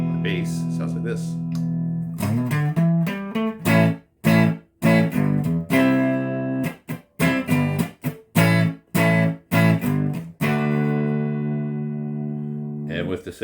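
Clean bass-pickup tone from an Epiphone Les Paul–style guitar with double humbuckers: ringing sustained chords at first, then a run of short choppy staccato strums with gaps, ending on a held chord.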